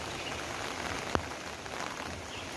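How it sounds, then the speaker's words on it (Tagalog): Steady rain falling near a landslide site on Yiu Tung Street, an even hiss of drops on surfaces with one brief sharp knock partway through and no talking. "Umuulan."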